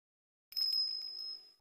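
A bell from the Ace Attorney Investigations 2 video game chimes as one sustained, clear ringing tone that starts abruptly and holds steadily before fading out, alone with no talk.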